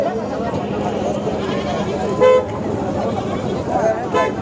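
Goats bleat in brief calls at a busy goat and sheep livestock market in Sangola, heard amid constant crowd chatter, nearby voices and a vehicle horn.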